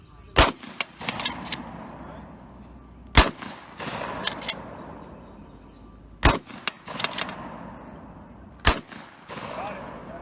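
Gunshots ring out at an outdoor shooting camp, four sharp loud reports spaced a few seconds apart, each followed by a decaying echo, with soft voices and movement between them.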